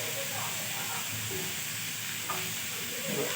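An onion sizzles steadily while being stirred in a pan, alongside making a restaurant-style paneer curry; a continuous hiss of frying fills the short stretch with no talk over it.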